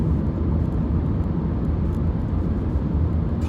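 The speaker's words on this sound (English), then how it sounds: "a little bit of tyre noise." Steady broadband road roar from a Vauxhall Combo Cargo van's tyres on a bumpy A road, heard from inside the cabin as a continuous low rumble with no talking.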